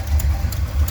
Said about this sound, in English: definitely an exhaust leak